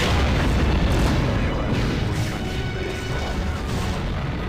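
A sustained, loud, booming explosion rumbles in a space video game as a wormhole is destroyed. The roar stays dense and steady across the whole stretch, with no talk over it.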